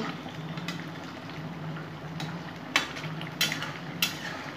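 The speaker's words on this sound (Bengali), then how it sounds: "নাড়িয়ে নেব" Prawn masala gravy sprinkled with garam masala simmers softly in a pan while a spoon stirs it, giving a few sharp metallic scrapes and clinks over a low, constant bubbling sizzle.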